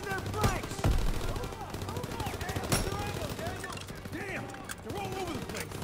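Machine gun fire from a staircase position in Call of Duty WW2, rapid bursts and sharp shots mixed with crashes and explosions, loud and close, with soldiers shouting over the battle.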